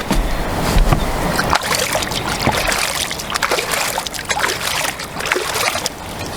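Water being scooped and splashed by hand at a lakeside feeder-fishing spot for tench, a broad wet sloshing with brief splashes over steady outdoor water noise, close and fairly loud.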